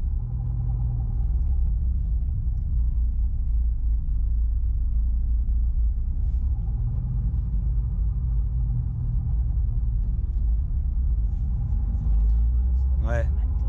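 Manual car driving during a driving lesson, with a steady low engine rumble and road noise heard from inside the cabin throughout, while an instructor and learner talk over it.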